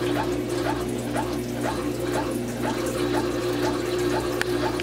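An LG high-efficiency top-loading washing machine drains before the rinse, a steady pump hum and rushing water with regular gurgling pulses, heard alone and close.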